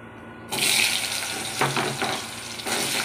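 Potato pieces dropped into hot oil already tempered with bay leaf, dried red chilli and whole cumin, hissing and spitting loudly and steadily with a brief clatter midway, no voices.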